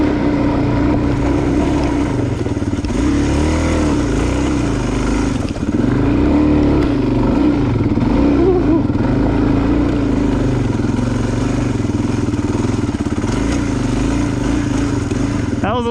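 A Kawasaki KLX250 and a Suzuki DRZ400 dirt bike ride together on a multi-day tour, their engines droning loudly and continuously with wavering pitch as they shift and rev, mixed with wind rumble.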